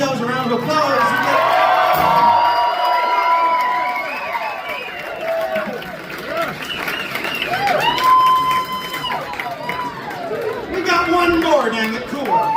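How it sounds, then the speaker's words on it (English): A concert crowd at The Burl in Lexington, Kentucky, at a folk show claps and cheers, a loud, dense wash of hands with shouts and chatter mixed among instrument tones and a talking voice. "Give yourselves a round of applause."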